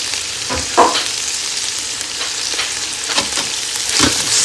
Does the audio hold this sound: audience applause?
no